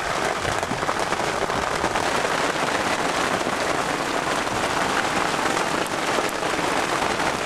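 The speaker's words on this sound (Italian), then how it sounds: "Pioggia cattiva!" Steady, dense rain pours down, a constant hiss of drops hitting a surface that stays loud and even throughout.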